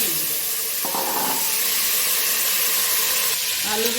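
New potatoes frying in a hot pan, a loud continuous sizzle and hiss with brief stirring movements partway through, close up.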